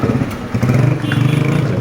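A Honda CG125 motorcycle, modified to retro style, runs close by, a loud throbbing putter with a quick uneven pulse throughout.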